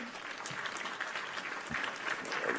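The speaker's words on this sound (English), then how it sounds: "Hit the little applause button real quick." A canned applause sound effect triggered from a soundboard button, a steady, fairly quiet wash of crowd clapping that swells slightly toward the end, with no voices.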